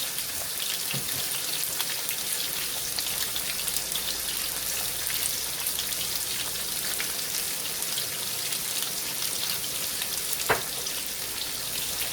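Pork chops searing in a frying pan, a steady broadband sizzle and crackle running without break, close and fairly loud, with a few sharper pops standing out.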